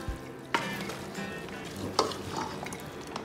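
Cooked rice tossed and fried with the masala in a pan for Malabar pirichor: a close, steady frying sizzle with two sharp scrapes of the utensil against the pan, with no talking.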